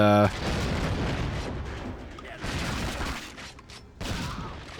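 Rapid shotgun blasts boom through the ship's interior in 007: Agent Under Fire, loud bursts layered over dense game noise, with a short tonal sound at the start and someone talking throughout.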